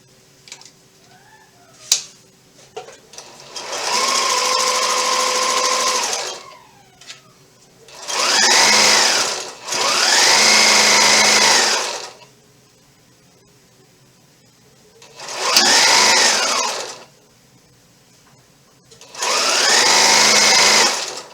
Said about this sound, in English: And then we can sew those together.